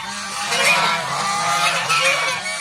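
Geese on a farm honk at night in loud, close calls that overlap repeatedly through the short clip, with no one talking.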